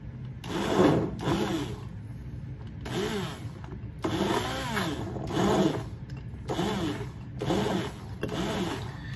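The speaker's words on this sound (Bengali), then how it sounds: "তো এটাকে আমি ব্লেন্ড করছি।" A blender whirs in repeated bursts as an ice cream mixture is blended with liquid nitrogen, each loud motor run lasting about a second with short pauses between, no talking.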